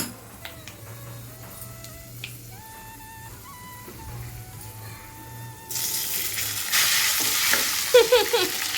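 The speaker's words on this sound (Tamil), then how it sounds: "இந்த சாதத்தில் அந்த தாளிச்சதை கொட்டிட்டு இல்லைன்னா நம்ம சாதத்தை அதில் போட்டு கலருங்க" Tempered sesame seeds are stirred into cooked rice, first a quiet scraping stir with faint tones in the background, then a louder, close sizzling hiss and spoon clatter toward the end.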